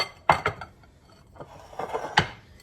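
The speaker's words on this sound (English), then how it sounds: "And then we'll take our pan." Metal baking pan for pecan pie brownies picked up and handled in a kitchen, with several clanking knocks and clinks at irregular intervals, close and moderately loud.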